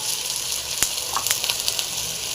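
Curry leaves and coriander sizzle in hot oil in a pan alongside tomato for a chicken gravy, a steady bright hiss with a few small pops and crackles, close and continuous, with no voices.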